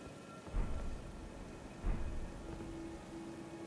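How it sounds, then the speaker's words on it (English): Two booming thunder cracks about a second apart, with a rain-like hiss underneath, from the Lightning Greatbolt spell in the video game Elden Ring. "Lightning great bolt."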